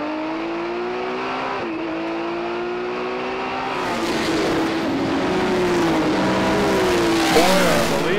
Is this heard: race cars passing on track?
yes